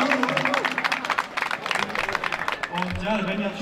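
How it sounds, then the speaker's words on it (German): A German crowd at a street event claps for a singer-songwriter, brisk applause mixed with cheers under someone talking over it, fairly loud and close. "Also nochmal ein bisschen größeren Applaus"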